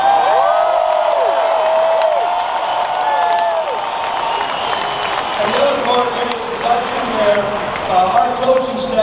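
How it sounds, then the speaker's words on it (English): A baseball stadium crowd celebrates a Chicago Cubs NLCS Game 6 win with loud, sustained applause and cheering, whistles and whoops rising above the roar, while an announcer's voice carries over it. "How about a tremendous round of applause for you?"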